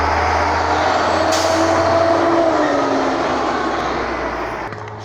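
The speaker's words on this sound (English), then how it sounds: "it's like noise in the background, loud noises, loud trucks, loud cars" A loud truck passes outside, a heavy continuous rumble and roar with a brief hiss like an air brake, filling the whole stretch and easing slightly toward the end.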